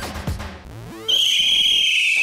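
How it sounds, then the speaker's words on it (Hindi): After some muffled scraping and shuffling, a shrill whistle is blown with a sharp start and holds as a loud, sustained, piercing tone for over a second. "सीटी बजाना क्या सिर्फ लड़के ही जानते हैं?"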